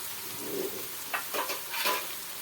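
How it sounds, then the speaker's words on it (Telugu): Ivy gourd and chopped onions frying in a pan, a soft steady sizzle with a few scraping stirs near the end, fairly quiet and close. "దొండకాయ అనేది ఈ విధంగా మగ్గిపోయి మొత్తం ఫ్రై అయిపోవాలి"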